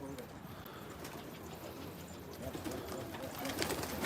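Pigeons coo in low murmuring calls on a rooftop where many birds land, a steady bed of bird sound with faint voices mixed in, growing slightly louder toward the end.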